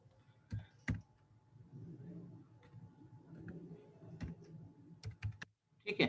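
Computer keyboard and mouse in use while entering screen tip text in a software tutorial, with sharp isolated clicks and a short burst of keystrokes over a low background hum and murmur.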